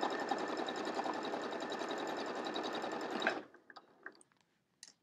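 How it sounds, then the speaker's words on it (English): A sewing machine stitches pieces of a samosa quilt block, guided along the edge of the presser foot. It runs as a steady, rapid, close whir for about three seconds, then stops, leaving a few faint clicks and handling sounds. "Sink my needle down and just use the edge of my presser foot as my guide."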